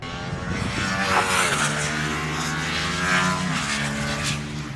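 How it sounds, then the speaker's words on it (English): A 2022 Ducati Streetfighter V2 motorcycle engine revs loud and close, its rising and falling harmonic whine sweeping steadily through several seconds of continuous engine roar, no talking. "It makes an absolutely stunning noise."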